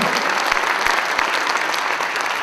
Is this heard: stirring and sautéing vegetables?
no